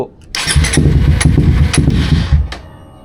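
A Suzuki GSX 150 motorcycle fitted with an aftermarket exhaust on a stock ECU cranks loudly close by for about two seconds in a rhythmic churn, then winds down without catching.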